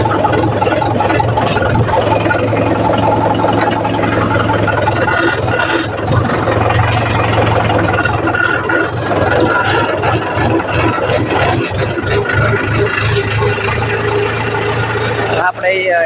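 A tractor engine runs steadily on a farm during field irrigation work, a loud, close, continuous low rumble that never lets up, with people talking over it.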